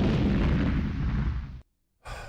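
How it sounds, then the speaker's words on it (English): A firework explosion sound effect: one loud, broad blast with a rumbling tail that cuts off abruptly, then a short burst of noise after a brief silence. "That is the sound of a firework"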